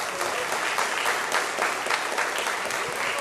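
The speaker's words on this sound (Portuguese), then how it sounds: "vamos aplaudir" A church congregation applauding together in a Tabernáculo da Fé service, dense steady clapping from many hands filling the room for the whole stretch.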